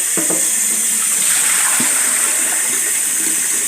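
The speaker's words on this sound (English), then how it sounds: "I'm just gonna put water in it" Water pours steadily from a tap into a pot of Thai jasmine rice, a loud, close gushing hiss with a few soft clunks against the pot.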